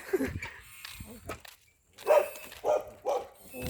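A dog barks and whimpers in short, close bursts, with people talking in between.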